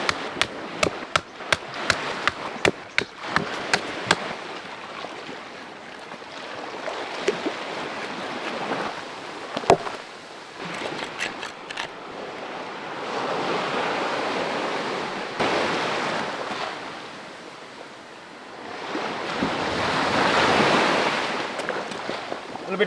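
Ocean waves and rising tide wash onto a sandy deserted island beach in a continuous rushing surf, with a louder swell near the end. Gusty wind buffets the microphone with sharp bursts of noise throughout.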